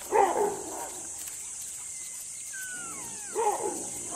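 An African wild dog pack calls at night: two short bursts of yelping cries, one at the start and one near the end, with a thin rising-and-falling whistle between them over quiet nighttime background noise.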